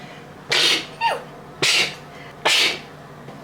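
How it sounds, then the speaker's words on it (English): A person sneezes three times in quick succession, each sharp burst close and loud, with a quick breath after the first. "I'm gonna sneeze."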